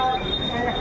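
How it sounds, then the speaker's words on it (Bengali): A train pulls out of Bolpur Shantiniketan station with a steady rolling rumble and a thin high wheel squeal, loud and close throughout a brief moment. "ছেড়ে দিয়েছে আমাদের ট্রেন বোলপুর শান্তিনিকেতন থেকে"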